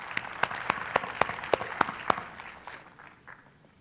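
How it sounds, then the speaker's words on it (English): Audience applause at an event, led by a steady rhythm of distinct nearby hand claps roughly every quarter second over softer background clapping, fading out after a couple of seconds. "Can we please give a round of applause for both of them?"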